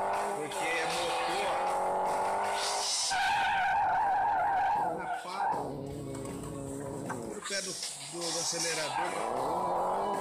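Rally car skidding across desert terrain in the Rally Fury racing game, engine whine and tire scrub sliding through a drift, loud and continuous with a brief lull before it picks up again, a voice talking over it.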